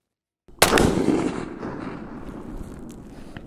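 A single sharp gunshot from a BRN 180 rifle with a 10-inch barrel firing 300 Blackout steel-case ammunition, loud and close, with a long decaying echo trailing off afterward.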